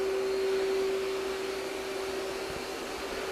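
An Ecovacs DEEBOT T30S robot vacuum runs with a steady, even whir and a constant tonal hum, heard alone and fairly close for a few seconds without any talking.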